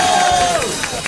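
Studio audience on a French TV variety show applauding and cheering steadily, a dense loud wash of clapping and whoops carrying through the whole short moment, with a descending whistle-like tone partway through.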